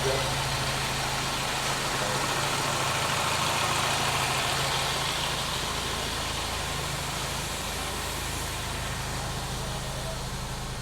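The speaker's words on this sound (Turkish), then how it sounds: "Gördüğünüz gibi arabamız çalıştı ve gayet güzel gözüküyor" A car engine running at a steady idle after being rebuilt and reassembled, a continuous low hum with broadband noise throughout, fairly close; a voice may be faintly present.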